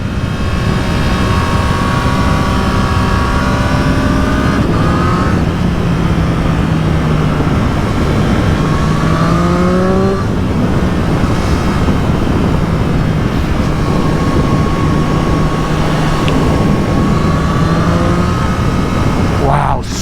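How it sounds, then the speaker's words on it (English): Close and loud, a 2024 Triumph Street Triple R motorcycle engine drones on, its pitch rising and dropping again and again as it revs high and shifts through gears, with a voice speaking intermittently under the noise. "Wow, when it revs way up there"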